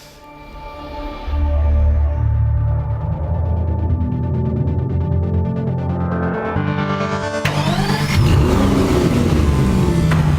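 Aston Martin sports car engine starting up and revving, a loud close throaty roar that holds steady and then climbs in pitch, with no talk.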